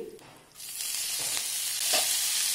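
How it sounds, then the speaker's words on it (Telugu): Cashew pieces frying in oil as curry leaves are dropped in, the hiss rising sharply to a bright, steady sizzle after a quieter start, close up with no talk. "జీడిపప్పు పీసెస్ని ఒక థర్టీ సెకండ్స్ ఫ్రై చేసిన తర్వాత సన్నగా కట్ చేసిన కొంచెం కరివేపాకును వేయాలి"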